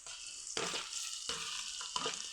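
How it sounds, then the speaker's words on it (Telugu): Tomatoes frying in a pan for a semiya and rava pulao, giving a steady broadband sizzle broken by a few louder stirring scrapes, close and alone with no talking. "టమాటో వేసి ఫ్రై చేసుకుంటాము."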